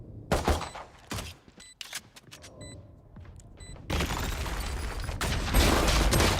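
Rapid gunfire bursts ring out in a competitive video game shooting match at an esports tournament, with sharp separate shots giving way to a dense, sustained volley of fire that stays loud and close throughout.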